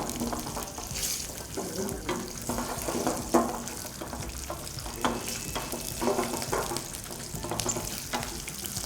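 Shallots sizzle and crackle steadily in hot oil, cooked for a brinjal fish curry, with scraping stir strokes and a faint run of water nearby; no one talks.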